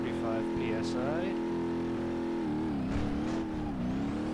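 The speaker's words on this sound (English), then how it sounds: "So what I'm doing is revving the engine all the way up to 35 PSI." The Stubby Bob car's engine revs hard in the BeamNG.drive video game while boost builds toward 35 PSI. It is a loud, sustained, close drone that dips and climbs in pitch, with no break for almost five seconds.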